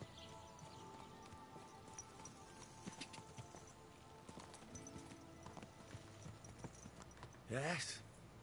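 Horse hooves clip-clop steadily on a path in the video game Kingdom Come Deliverance 2, quiet and even-paced under ambient game sound, with a short horse whinny near the end.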